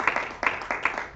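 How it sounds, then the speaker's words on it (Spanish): Church congregation applauding during a Sunday service, a short burst of many hands clapping in uneven waves at moderate distance, with no talk over it. "Den un aplauso al Rey de los Cielos."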